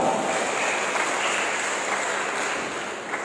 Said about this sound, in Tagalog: Isang malakas na palakpak ni Panginoon.